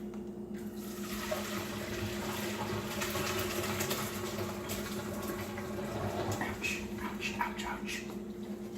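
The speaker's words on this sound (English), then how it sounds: "when you're pouring hot stuff into a strainer or wherever" Hot spaghetti and water poured into a strainer, a steady rushing splash running for several seconds with some voice in the background.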